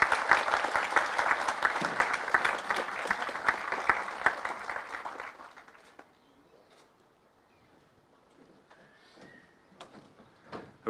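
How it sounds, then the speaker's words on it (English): At a university graduation ceremony for business and law awards, the audience claps loudly and densely for about five seconds before the applause fades into a quiet room with only scattered faint sounds. "And applause, please."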